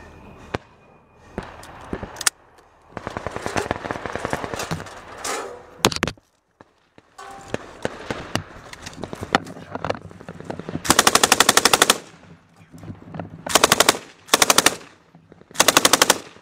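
Machine gun fire in a live war attack between Ukrainian and Russian forces, with loud rapid bursts of automatic shots, a pause, and then longer dense volleys that clip at full loudness.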